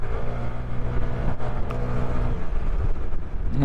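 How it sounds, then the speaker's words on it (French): An engine rumbles close by, steady and prominent, as a large truck approaches from the front on a road at night. "il y a un gros camion qui arrive en face"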